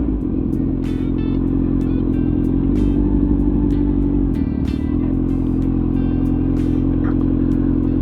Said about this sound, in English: There they are, all these bikes.